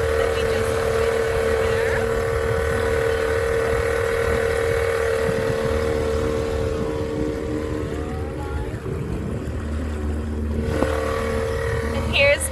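A steady motorboat engine drones throughout, with wind and water rushing past and a few faint voices underneath.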